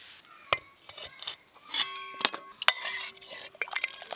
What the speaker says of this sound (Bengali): এই যে 2-4 বার এইভাবে নেড়ে নেড়ে হালকা একটু ঠান্ডা করে নেব।